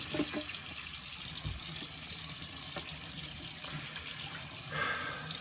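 Warm water runs steadily from a tap into a sink, a continuous close hiss and splash with small shifts in the flow, heard alone without talking.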